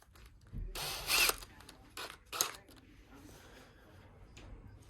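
A power drill spinning bolts whirs in two short bursts, spinning up and stopping, close by in an otherwise quiet space.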